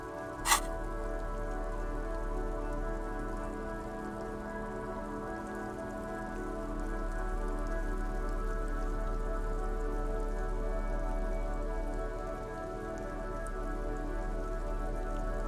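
Steady rain falls in the video game Disco Elysium, an even, moderate hiss of drops lasting throughout over a low constant hum, with a single sharp click near the start.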